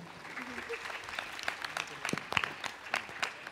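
An audience claps at the Kalyan VEDH 2014 event, a scattered, uneven patter of hands with sharper individual claps standing out near the end, heard fairly close with some voices mixed in.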